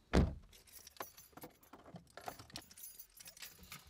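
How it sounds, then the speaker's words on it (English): A bunch of keys jangles close and loud at the start, then keeps clinking and rattling in a scattered, uneven way across the rest of the stretch, with no talk over it. "Keys."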